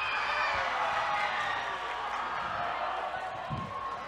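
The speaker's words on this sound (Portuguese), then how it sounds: "Palmas para a nossa amiga." Students in a math review class applaud a classmate who answered correctly, a steady wash of clapping and crowd noise filling the room with no clear pauses.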